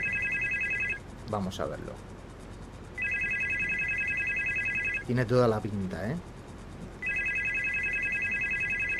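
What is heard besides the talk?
telephone ringing in the video game Supernormal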